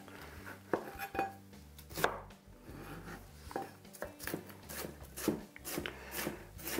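A sharp knife chops meatloaf ingredients on a board in quick, irregular strokes, with crisp close thuds and occasional scraping.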